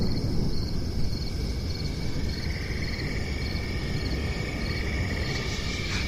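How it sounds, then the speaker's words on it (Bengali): Crickets chirp nonstop from jungle beside a muddy village road at night, a steady high trill over a dense, loud bed of ambient noise, with no voices. "রাস্তার পাশ দিয়ে জঙ্গল থেকে ঝিঝি পোকার এক টানা ডাক"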